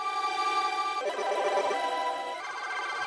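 A sustained synthesizer tone rich in harsh, bell-like aliasing and FM artifacts shifts its timbre twice, steady and loud, with no voices.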